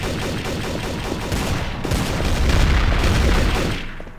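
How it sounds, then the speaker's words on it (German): Gunfire in Trouble in Terrorist Town, dense rapid shots and booming blasts forming a loud continuous barrage that swells toward the end before tapering off. "Warum schießt du auf mich?"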